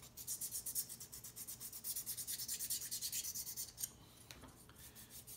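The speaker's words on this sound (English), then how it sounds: "So I'm gonna use my file" Steady back-and-forth rasping of a file on a wooden model handgun part, quick regular strokes, close and fairly quiet, with no talking.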